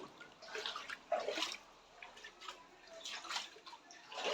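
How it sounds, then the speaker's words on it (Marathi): Rainwater flooding a room in a Mumbai house, soft sloshing and splashing water in uneven bursts, fairly faint and close, with no voices over it. "हे बघा पाणी साचले."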